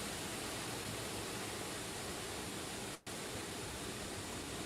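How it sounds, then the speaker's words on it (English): A Terran-1 rocket vents propellant on the launch pad, a constant broadband hiss like rushing air heard faintly from a distance. It runs unbroken except for a momentary dropout partway through. "That's actually the sound of the rocket venting"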